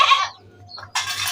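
A young pure white goat bleats in short, loud bursts: one at the start, a brief softer call midway, then another strong bleat at the end, with no talking.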